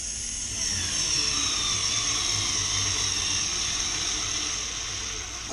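A Parkside 4V cordless screwdriver strains as it drives into hardwood, giving a steady high-pitched motor whine that holds for several seconds without a break, loud and close, with no talking over it.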